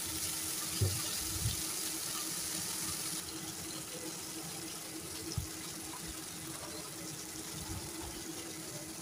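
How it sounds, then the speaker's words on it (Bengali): Okra frying lightly in oil in a pan, a continuous close hiss and sizzle with occasional soft knocks of stirring, steady throughout. "আর এখন আমি ঢেঁড়সগুলা হালকা করে ভেজে নেব"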